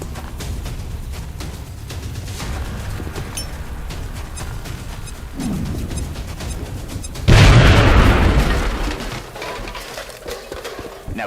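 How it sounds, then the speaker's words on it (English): A grenade detonates in a military video game: a sudden loud, heavy blast that decays into a rumbling roar after steady background battle noise and scattered distant pops. "Now toss your grenade at the enemy in front of you."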